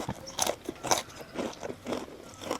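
Crisp bites and crunches into fried pork rinds at a market, about five sharp crackling bursts spaced roughly half a second apart, close and fairly quiet.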